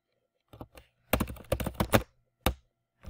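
Short, irregular clusters of soft keystrokes on a computer keyboard in a quiet room, a few isolated taps followed by quicker bursts of typing, close and faint.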